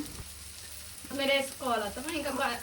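Brain fry curry sizzles in a pan while being stirred, a close frying hiss with a short voice-like sound over it.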